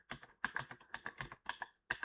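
Rapid typing on a computer keyboard, close and fairly quiet, with clustered bursts of keystrokes broken by short pauses and no voices.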